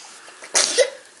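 A single short sneeze-like burst from a person, close and fairly loud, a sharp broadband blast followed by a brief voiced tail, with quiet room tone before and after.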